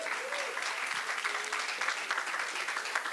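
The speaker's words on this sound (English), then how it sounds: "Let's give her another round of applause." Audience applause for an award recipient at an awards reception, a dense steady patter of many hands clapping close by for a few seconds, with no voices over it.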